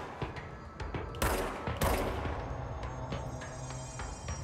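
Gunfire from the video game Control: a few scattered shots, then two loud heavy bursts close together in the middle, followed by fainter trailing reports and rumble.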